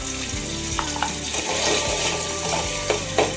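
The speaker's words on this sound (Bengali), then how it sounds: "আবারও নেড়ে চেড়ে দেওয়া হচ্ছে।" Tomato and ginger garlic paste frying in a pan, a steady close sizzle with a spoon scraping and stirring in irregular strokes, no voices.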